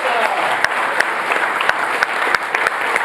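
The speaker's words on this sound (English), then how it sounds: "good round of applause" Audience applause at a Kamailio World 2018 conference demo session, a dense wash of clapping from a crowd with a few sharper, louder claps standing out, filling the whole moment without talk.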